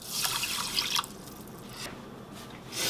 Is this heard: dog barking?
no